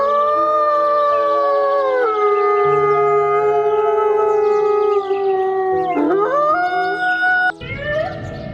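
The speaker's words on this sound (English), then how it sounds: "Wolf." A wolf gives a long, loud howl with a steady pitch that slides down and rises again, with further overlapping howls joining toward the end.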